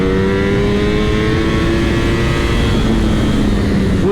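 A Ducati Streetfighter V4 S motorcycle engine revs under throttle with a loud, close, sustained roar whose pitch climbs steadily, then dips slightly near the end.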